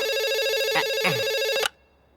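A telephone ringing with a bright electronic trill, loud and close, cutting off abruptly after a ring.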